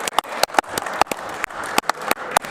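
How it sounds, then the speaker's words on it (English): A few people in a legislative chamber clap in scattered, uneven bursts, fairly close, with low murmuring beneath the claps. "I'd like to give him a big round of applause."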